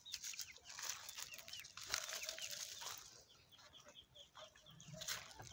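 Large chickens cluck and call steadily on a farm in Davao, some close and others further off, with occasional wing flaps and no talking.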